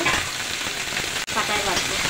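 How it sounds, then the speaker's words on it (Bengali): Pumpkin leaves fry in a pan with a continuous close sizzle and crackle, briefly cut off by a short dropout midway. "এখন শাকগুলো দিয়ে দিলাম, এটাকে ভালো করে ভাজবো।"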